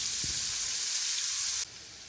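Onions sizzling in a very hot pan, a bright, steady frying hiss that holds loud and close, then drops to a softer sizzle near the end.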